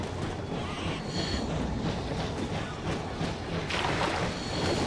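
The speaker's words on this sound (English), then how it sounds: "That sounded like the train." Train in the video game Metro Exodus rumbling past, a broad continuous roar that swells and rolls with no voices, swelling louder toward the end.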